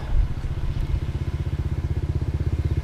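A motorcycle engine putters nearby with a fast, even pulsing beat, steady and fairly close, no voices.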